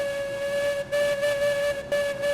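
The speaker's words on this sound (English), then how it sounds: "feather the whistle from this screen now." Steam locomotive whistle from the Railroads Online train game, a steady multi-tone blast held throughout with brief dips where it is feathered, loud and alone with no talk.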